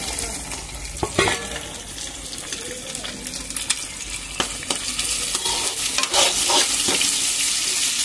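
Curry leaves frying in hot oil with onions and beaten eggs in a pan, a steady crackling sizzle with occasional louder pops and stirring scrapes, close and continuous.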